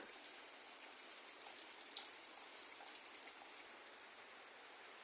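Quiet, steady hiss of rain falling at a distance on a foggy village morning, with faint scattered drops.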